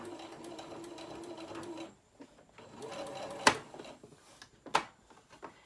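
Home sewing machine stitching a tote bag, fast rhythmic whirring bursts that stop and restart, with a couple of sharp clicks of the machine between runs, close and fairly quiet with no talk.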